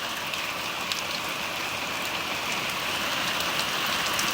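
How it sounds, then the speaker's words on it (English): Heavy torrential rain pours down steadily, a dense, loud hiss of water hitting surfaces with occasional drips and splashes, continuous and close with no voices. "Now it rains heavily."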